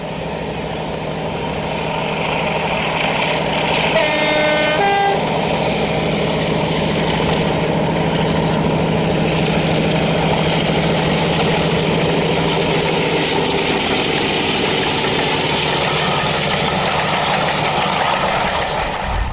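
Locomotive DA21 runs past Erdington with a loud, sustained engine drone and broad rumbling roar, a brief horn-like tonal burst near the start, continuing steadily close by without any voices.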